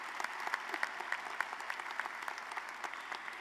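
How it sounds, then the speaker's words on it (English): An audience at a college commencement ceremony applauds steadily, a soft, distant patter of many hands clapping with no voices over it. "You can go ahead and clap for that."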